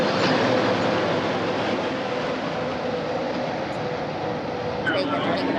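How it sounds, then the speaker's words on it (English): A monorail train at Epcot Center glides past as a steady, continuous rumble and rush throughout, with a faint voice speaking over it outdoors. "And there goes the monorail."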